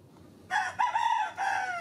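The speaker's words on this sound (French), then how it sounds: "Donc là 1, 2, 3, 4, 5, le coq." A rooster in a chicken coop crows loudly and close by, one call running through in a couple of connected bursts against a quiet barn background, with no voices.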